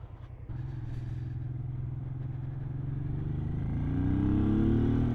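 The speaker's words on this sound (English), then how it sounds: "Look at that acceleration! It's got a bit of poke about it, this bike." A Honda Bros, also known as the Hawk GT, motorcycle pulls away and accelerates. A steady engine drone builds in pitch and loudness over about five seconds, close by, with no voices.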